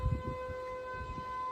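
A distant outdoor civil defense siren sounding during a test, a steady faint wail holding its tone over low rumbling background noise.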